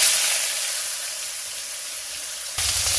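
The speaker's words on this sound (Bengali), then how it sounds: "এদিকে তেলটা ভালোভাবে গরম হয়ে গেছে, দেখো এটাতে আমি পটলটা ভালো করে ছাকা তেলে ভেজে নেব" Pointed gourd deep-fries in hot oil with a steady, close, bright sizzle that holds throughout and briefly jumps louder near the end, with no talking.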